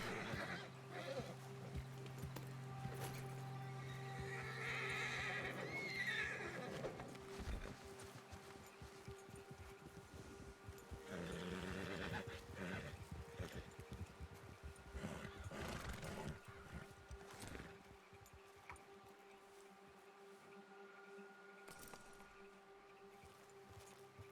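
A video game horse in RedM whinnies twice amid clopping hooves and a low background hum, all fairly faint and distant.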